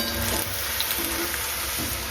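Onion bhaji deep-frying in boiling oil in a home kitchen makes a steady, close, dense sizzle with a continuous bubbling hiss that runs throughout, with no voices.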